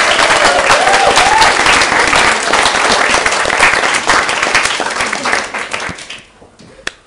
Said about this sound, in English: I think both Tom and Andrea deserve a round of applause for their efforts.